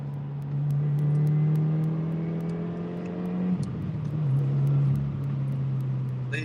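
A car engine during an impromptu street race, droning steadily with harmonics rising as it accelerates, a brief dip midway, then pulling strongly again, close and loud throughout.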